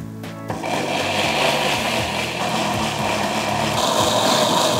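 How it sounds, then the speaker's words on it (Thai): A blender whirs loudly and steadily, its motor grinding with a churning, slightly uneven rhythm as it blends shallots with water. "ใส่หอมแดงลงไปในเครื่องปั่นนะครับเติมน้ำไปช่วยเพื่อให้ปั่นง่าย"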